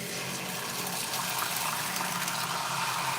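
Oily egg mixture poured into a hot pan for a quick budget meal, a continuous gushing, sizzling rush that stays loud and even throughout, with no talking over it.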